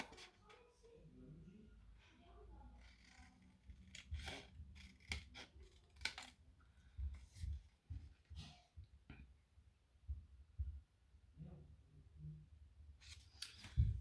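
Scissors snipping through fabric while cutting out a handmade bow tie, a series of quiet, crisp, irregular clicks and cuts close by, with soft handling noises between them.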